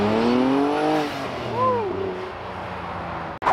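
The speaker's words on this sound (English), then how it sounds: "Ed in the NSX is going to do a drive-by, Brother Ed." An Acura NSX sports car does a drive-by at a cars and coffee meet in San Antonio, with a rising then falling engine note as it passes close by, followed by the fading tail of the sound.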